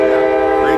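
A freight train horn blares loud and steady at a railroad crossing on Maple, a sustained close blast filling the brief moment.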